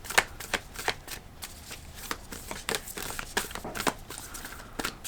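Tarot or oracle cards are shuffled close by in a run of quick papery riffles and soft crinkly slaps, uneven in rhythm, with no talking.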